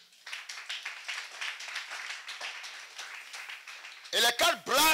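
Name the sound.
congregation applauding and cheering for the Lord Jesus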